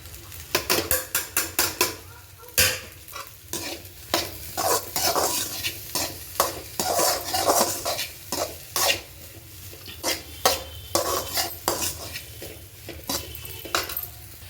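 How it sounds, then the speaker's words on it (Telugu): Fried rice with dark soy sauce and onions is stirred briskly in a pan, loud rhythmic metal scrapes and clanks over a constant sizzle, close up and without talk. "ఇప్పుడంతా బాగా కలిపేస్తున్నాం ఆనియన్స్ వేసుకుందాం"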